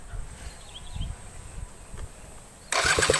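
A Suzuki RC 100 motorcycle engine catches on a single electric start press after a quiet moment, then settles into a loud, buzzy two-stroke idle close by.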